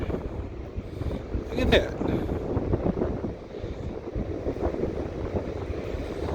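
Strong wind buffets the microphone in loud, rumbling gusts while a person speaks briefly over it outdoors on the coast at Newport, Oregon.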